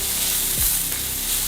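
Onions cooking in a pan over a low-medium flame, giving a steady, hissing sizzle throughout with a brief low thump partway through, close and unbroken by voices.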